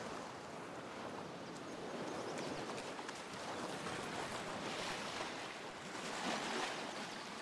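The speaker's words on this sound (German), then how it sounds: "Ah, das Wasser." Water waves in the video game Nightingale, a steady faint wash of surf and rushing water with gentle swells, heard alone without talk.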